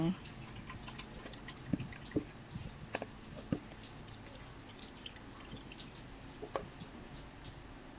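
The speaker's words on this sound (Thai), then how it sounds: "เราก็จะเอา ผ้าขาวบางนะคะกรอง" Liquid Thai layered-dessert batter of sugar and flour drips and trickles as it is strained and squeezed through cheesecloth, a close, faint, irregular patter of drops with soft splashes.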